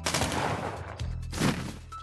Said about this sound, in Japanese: 時間で爆発するやつですね。 大型の花火爆弾みたいなもんですね。